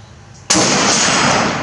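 One sharp, loud shot from a Beretta ARX 100 rifle with a 10.5-inch barrel, fired at a target 100 yards away outdoors, bursts suddenly after a quiet moment and is followed by a sustained roaring blast and echo.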